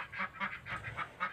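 Farm ducks raised for laying eggs quack in a rhythmic series of nasal honks, about six calls in quick succession, moderately quiet and close, with no talk.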